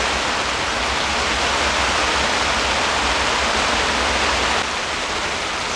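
Heavy rain pours onto a one-touch camping tent in a torrential night downpour. The roar is loud, dense and steady, with no break, and nobody speaks.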